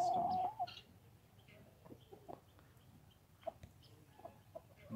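Several chickens cluck softly and intermittently nearby, with scattered short calls over a quiet outdoor background.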